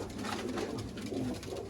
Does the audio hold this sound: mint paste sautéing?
no